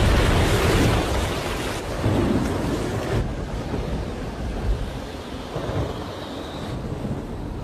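A violent storm rages at sea, with heavy crashing waves and rumbling thunder blending into a dense, roaring wash that is loudest at the start and then eases slightly, with no voices.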